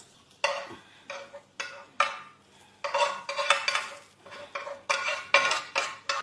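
Cooked okra fry (bhindi) is stirred and tossed in a pan with the heat off, giving repeated scraping and clattering of a utensil against the pan in uneven bursts, close and fairly loud, with no talking.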